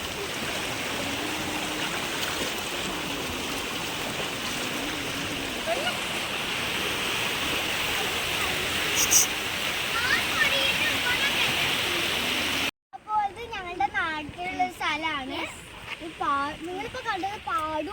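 Monsoon floodwater flows where paddy fields and a stream have merged into one, a steady broad rushing roar, followed by a person talking over quieter water after a cut.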